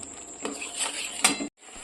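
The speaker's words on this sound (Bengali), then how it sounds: "এই দিয়ে ভালো করে এবার এই মশলাটাকে কষাতে হবে, খুব সুন্দর করে মশলাটাকে কষিয়ে নেব।" Spice paste for dhoka being stirred in a pan, with a metal spoon scraping and clinking against the pan in short irregular strokes over a faint continuous sizzle.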